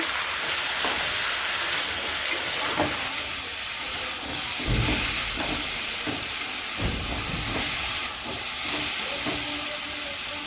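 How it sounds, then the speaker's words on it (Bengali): Vegetables with a little turmeric sauté in a pan, giving a loud, dense, continuous sizzle and steamy hiss close up, with occasional stirring scrapes and no talking. "সবজিটা ভালো করে কষিয়ে নেই"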